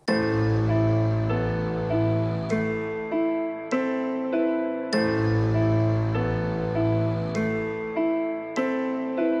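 A looping music sample with sustained melodic tones and soft chime-like accents, steady and moderately loud, repeating its phrase twice without any talking.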